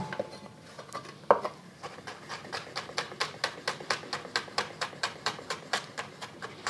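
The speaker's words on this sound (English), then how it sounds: "this recipe is so fast that I have time to chop up my garlic" Rapid, evenly spaced knife taps on a cutting board as smashed garlic cloves are chopped, about a dozen and a half crisp strikes in steady rhythm, fairly quiet and close.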